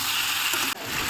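Crab and boiled taro stirred in a hot frying pan give a brief, dense, steady sizzle up close, with a short dip partway through as the food is moved.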